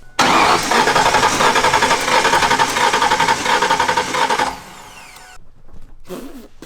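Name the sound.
5.0 engine cranking during compression test, Ford Ranger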